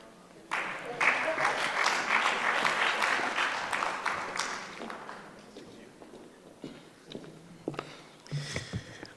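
Mourners applauding at a memorial service, the clapping bursting in loudly after a short pause, then thinning out into scattered claps and faint voices near the end.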